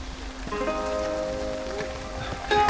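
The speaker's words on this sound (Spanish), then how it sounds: "Continuamos para Adashino y la lluvia no paraba." Steady rain falling in Adashino, Kyoto, a continuous soft patter on surfaces throughout, with faint tonal background sounds drifting over it and a slightly louder burst near the end.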